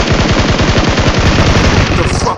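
Rapid automatic gunfire from a video game shootout, loud and close, with tight repeated bursts rattling on for the whole stretch without pause.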